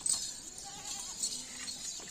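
Goats on a goat farm bleat in several wavering, nasal calls, some overlapping, heard at moderate distance against a light background hiss.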